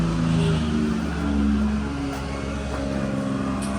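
Steady engine drone from Gator utility vehicles close by, a continuous low rumble with faint shifting tones and no clear pauses, lasting a few seconds with no talking.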